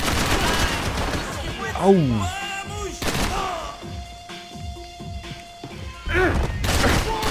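AK rifle gunfire in the video game Max Payne 3, bursts of shots and impacts mixed with game sounds while someone speaks and yelps over it.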